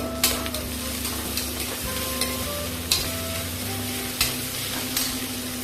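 Onion with crushed garlic and ginger fries in a pan with a steady sizzle, punctuated by regular spatula knocks against the pan and a low hum underneath.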